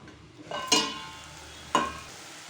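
Kolmi greens stirred in a frying pan with green chilli, giving two sharp scraping strokes over a soft, steady sizzle.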